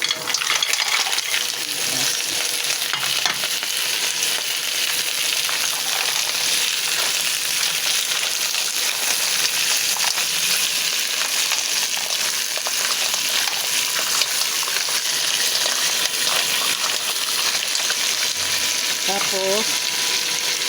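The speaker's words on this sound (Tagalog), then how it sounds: "ilunod na po natin itong tahong" Mussels going into a cooking pot set off a loud, continuous hissing and bubbling that fills the whole stretch without pause, close and dense.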